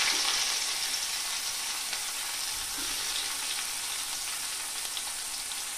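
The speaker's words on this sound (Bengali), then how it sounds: "এবার আমি কুচিয়ে রাখা পেঁয়াজটা দিয়ে দেব।" Chopped onion, a generous amount from two large onions, frying in hot oil in a pan: a steady, loud, close broadband sizzle that holds evenly throughout, with a few faint stirring scrapes beneath.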